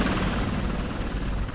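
Steady, loud helicopter rotor and engine drone in the video game Ghost Recon Advanced Warfighter, a continuous broadband whir with a faint high whine, filling the moment without voices.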